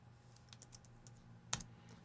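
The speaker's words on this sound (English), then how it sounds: "if you type in red," Typing a search into a web browser on a computer keyboard: a few quiet, close key taps followed by one firmer keystroke, all over a low electrical hum, with nobody speaking.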